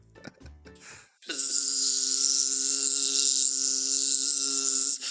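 A loud, steady insect-like buzz, like a bee sound effect, starts abruptly after a brief burst of other noise and holds at constant strength for about four seconds before cutting off.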